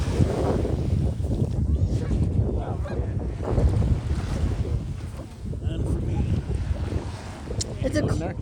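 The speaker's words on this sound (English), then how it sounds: "I thought the seagulls were making that noise, but it's just the geese." Geese honk intermittently at Lake Tahoe, partly masked by steady wind noise buffeting the microphone and water sounds, with faint voices nearby.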